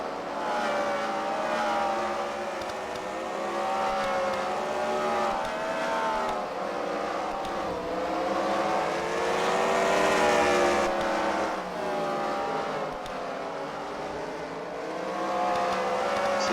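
Race cars lap a track at a Fight Night event at The Freedom Factory, their engines droning loudly and overlapping as pitch rises and falls through acceleration and passing, a continuous roar with no voices.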